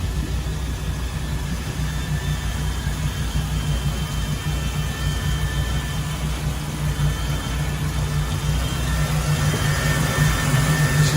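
A Cobalt 200 boat's engine idles steadily and smoothly, with a constant low rumble and hum, unchanging throughout and fairly loud.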